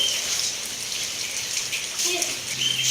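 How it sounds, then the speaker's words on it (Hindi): Steady rain hissing and pattering throughout, a dense wash of drops close by with faint voices underneath. "टैंगो मैंगो जाओ, बारिश में जाओ"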